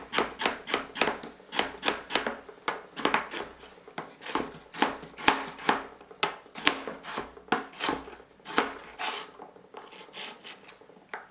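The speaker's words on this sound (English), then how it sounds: "Now we're going to slice." A knife slices chicken soup ingredients on a cutting board in a home kitchen in a quick, steady rhythm of sharp close-up cuts, each stroke landing with a rasping thud, with no talking over it.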